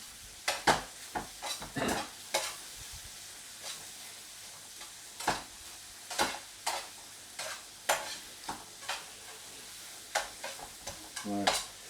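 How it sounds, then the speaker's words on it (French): Fruit, likely pear, cooks gently in a pan for a quick dessert, with a soft low sizzle under repeated sharp clicks and scrapes of a utensil stirring against the pan and no talking. "Donc là, je fais cuire tout doucement."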